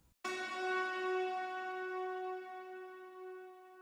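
A single cymbalom strike is bathed in a very long, smooth Super Hall reverb from Audio Damage EOS 2, with a bright, shimmering tail that sustains and fades slowly.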